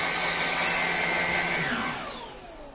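Numatic NBV190NX cordless vacuum cleaner with a turbine head whirring steadily at high pitch, then winding down and fading toward the end with a falling whine.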